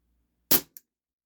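A CZ Shadow 2 CO2 BB pistol fires one H&N Smart Shot copper-jacketed lead BB, a single sharp close pop with a faint tick just after, then silence.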